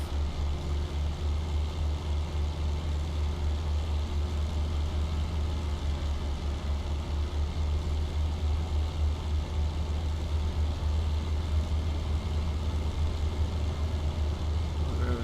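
A P-39 Airacobra engine running at full emergency power in the IL-2 Battle of Kuban flight game, a steady, loud, continuous low drone that holds unchanged throughout with no talk over it.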